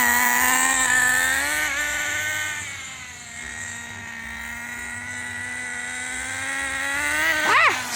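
A Team Associated RC10GT2 nitro RC car runs in a parking lot, its small engine giving a steady high-pitched buzz that sags in the middle, then rises with a sharp rev near the end.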